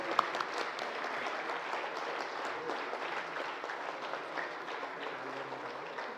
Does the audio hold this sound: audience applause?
yes